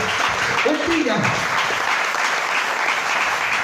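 A church congregation bursts into loud, steady applause during a sermon, a voice briefly rising over the dense clapping near the start before it carries on evenly throughout.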